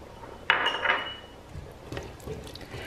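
Pumpkin soup being stirred in a pot, with a sharp clink of a spoon against the pot followed by soft, faint liquid sloshing and scraping.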